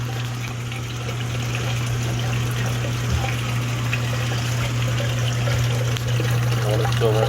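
Water running out of the drain valve on a Cleveland boiler base with kettles, a steady trickling gush over a constant low hum, with people talking faintly in the background.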